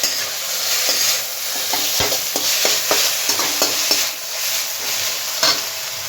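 Veg chow mein noodles tossed with chili sauces in a hot pan: a loud continuous sizzle broken by repeated sharp scrapes and clacks of a spatula stirring at an uneven rhythm, close up, with no voices.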